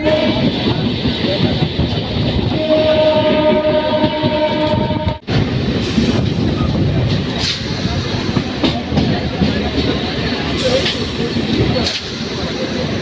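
A local train on the Kalyani to Budge Budge line runs near Sodepur, a loud continuous rumble and rattle from inside the coach with a sustained horn tone early on and people talking in the background.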